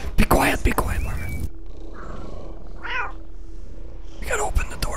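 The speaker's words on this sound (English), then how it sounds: "Pet the cat." Cat meows and purring from Lethal Company, a few short rising meows sounding mid-clip over steady low game ambience, with people talking loudly at the start and end.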